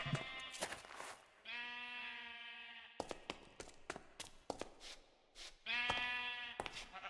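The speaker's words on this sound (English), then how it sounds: "I'm actually gonna smack this sheep up." Sheep in a Minecraft hardcore survival world bleat repeatedly, several drawn-out bleats broken up by sharp clicking hits and game sounds, quiet overall and without talk.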